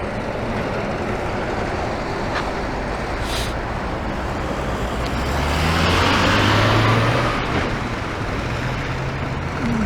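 Steady street traffic roars past at a city crosswalk, with cars passing close by and a louder vehicle swelling around the middle before fading, continuous broadband road noise throughout and no talk.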